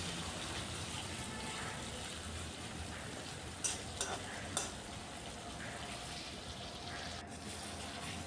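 Tomatoes with salt being stirred in a frying pan, a continuous sizzle with a few sharper scrapes of the spoon, near and soft, without voices.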